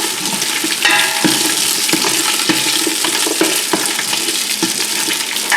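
Onions sautéing in a stock pot before chicken stock is made, a steady loud frying sizzle with scattered spoon scrapes and stirring knocks throughout, no voices.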